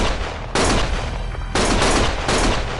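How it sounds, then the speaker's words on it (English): Gunfire in the video game Lost Judgment comes in loud, dense bursts of rapid shots, two sustained volleys separated by a brief gap, close and overwhelming. "Stop shooting!"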